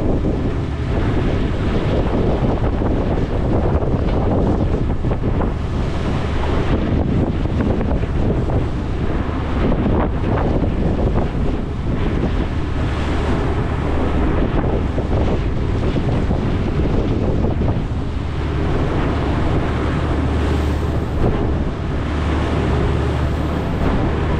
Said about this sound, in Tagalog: Sipol yung hangin eh.